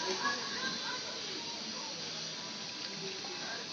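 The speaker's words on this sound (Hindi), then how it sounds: "ये तब तुलसी में पानी डाल रही हूँ।" Water is poured gently into the pot of a tulsi plant, making a soft, steady trickle and hiss that runs faintly and continuously throughout.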